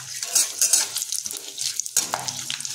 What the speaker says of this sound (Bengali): যখন আমরা ফোড়ন জিনিসপত্রগুলো গরম তেলের উপর যোগ করছি তাই এটাকে আমরা খুন্তি দিয়ে মিনিট খানিক ধরে নাড়িয়ে নেব।